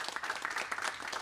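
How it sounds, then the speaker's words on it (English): An audience applauds panelists at the close of a development-finance policy discussion, a steady patter of clapping from a moderate crowd heard at a distance and fairly soft. "Please, let's give our panelists a round of applause."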